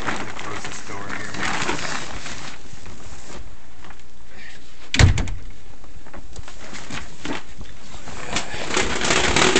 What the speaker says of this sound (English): Close this door here.